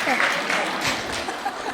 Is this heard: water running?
no